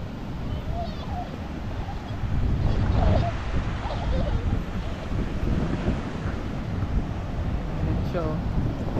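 Strong surf at Nacpan Beach in Palawan, a broad low rumble of waves under heavy wind buffeting the microphone, with voices talking nearby.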